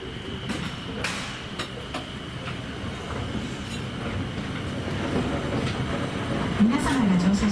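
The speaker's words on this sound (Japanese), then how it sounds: "美しい渓流と樹齢およそ300年の木曽ヒノキの森を 列車が発車します。" Akasawa forest railway train pulling away through Kiso cypress forest beside a mountain stream, a steady rolling rumble with faint clicks that grows slightly louder, under background chatter and a brief squeal near the end.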